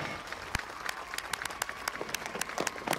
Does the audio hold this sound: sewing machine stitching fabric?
no